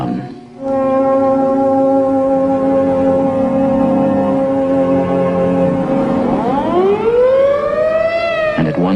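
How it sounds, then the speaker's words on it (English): A loud civil defense siren drones steadily with rich harmonic tones over an emptied town, then near the end its pitch sweeps upward in a rising wail, sounding alone. "as directed by the mayor, the siren sounds once more."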